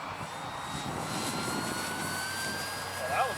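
An RC Hawker Sea Fury 1200 model airplane from Banana Hobby / BlitzRCWorks takes off, its electric motor whining steadily and rising slightly in pitch, with light wind noise in the background.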